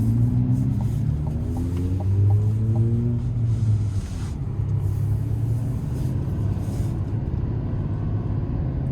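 A 2026 GMC Sierra 2500HD AT4X heavy-duty pickup with a gas V8 drives along, its steady low engine drone and road rumble holding throughout at a constant, moderately loud level.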